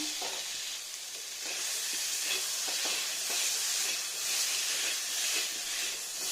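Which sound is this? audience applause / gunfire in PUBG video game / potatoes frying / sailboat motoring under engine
potatoes frying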